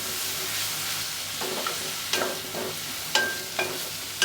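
An egg and tomato curry is stirred and fried in oil in a pan, with a steady sizzle under several distinct scraping stirs. Nobody speaks.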